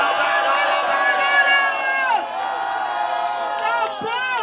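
A crowd at the final of a freestyle rap battle cheers and whoops loudly, with shouts and yells rising and falling over a continuous roar for several seconds.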